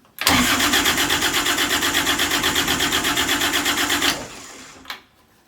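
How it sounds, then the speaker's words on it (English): A Universal Atomic Diesel 5432 marine engine cranks over for about four seconds after its glow plugs are heated, giving a loud, fast, steady chugging rhythm that stops abruptly without the engine catching. "And we'll crank it over."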